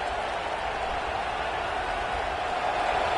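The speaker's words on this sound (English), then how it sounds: "Listen to this crowd just shaking the girders of this place, trying to help their defense" A packed stadium crowd roars through an LSU vs UGA college football game while the defense is on the field, a dense, loud, unbroken wall of cheering.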